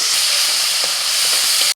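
Spice paste dropped into hot mustard oil already tempered with dried chillies, bay leaf and five-spice, giving a loud, continuous hissing sizzle close up that cuts off abruptly at the end.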